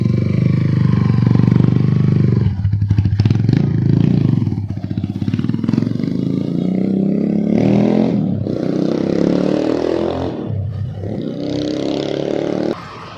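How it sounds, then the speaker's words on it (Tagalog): A Yamaha motorcycle engine, upgraded from 149cc to 183cc, idles and revs repeatedly, its exhaust roaring loud and close, with rattling clatter between bursts. "Tapos tinantunog ng tambutso ah"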